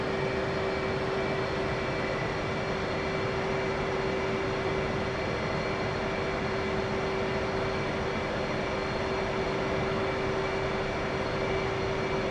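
An F/A-18 Hornet jet taxiing toward the runway in the DCS flight simulator: a steady, unchanging engine drone and whine with a constant hum, and no talking.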